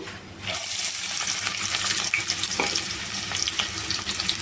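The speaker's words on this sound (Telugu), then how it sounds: "ఇవి 2 నిమిషాలు వేగిపోయిన తర్వాత ఉల్లిపాయ ముక్కలు వేసుకుంటున్నాను" Onion pieces fried in oil with whole spices for a country chicken curry give a steady, close, loud sizzle that starts abruptly and carries on throughout, with faint stirring scrapes and no talking.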